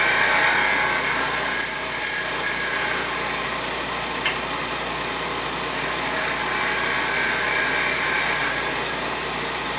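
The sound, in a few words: woodturning lathe scraping end grain of a box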